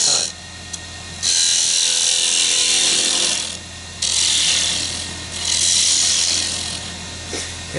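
A power saw cutting wood along a bevel, a loud steady whining cut that runs, drops off briefly, then resumes with a low constant hum beneath, close and alone.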